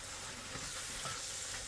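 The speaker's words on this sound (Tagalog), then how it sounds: "paghalo-haluin lang natin at lutuin ng about 1 minute" Singaporean fried rice seasoned with masala powder is stirred and fried in a pan, giving a soft, steady sizzle with scraping stir strokes at low volume and no talking.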